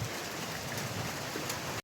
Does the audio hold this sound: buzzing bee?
no